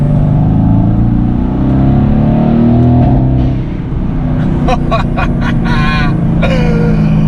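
A sports car engine drones loudly as it revs, followed by a rapid series of sharp exhaust pops and bangs near the end.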